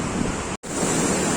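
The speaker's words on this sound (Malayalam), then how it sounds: "ധോലി ഗംഗ വന്നിട്ട് കുത്തി ഒലിക്കുവാണ് ഇവിടെ." Dhauliganga river rushing into its Himalayan confluence at Vishnuprayag, a loud, steady roar of churning water close by, broken only by a split-second dropout midway.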